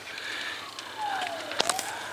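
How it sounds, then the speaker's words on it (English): Faint, distant emergency sirens wailing with a slow falling-and-rising pitch sweep, heard outdoors near a deliberately set field fire, over a soft background hiss with a few crackles and no talking. "I hear sirens."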